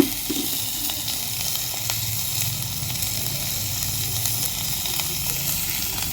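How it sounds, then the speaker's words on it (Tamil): Onion and green chillies sauté in a hot pan for a Tamil cabbage and egg stir-fry, giving a steady, close sizzle and hiss throughout with no talking. "போட்டுட்டு நல்லா வதக்கிக்குவோம்."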